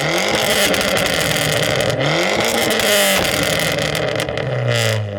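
Abarth 595 with a newly fitted TD04 turbo warming up, its engine droning loudly and steadily up close with rising and falling revs.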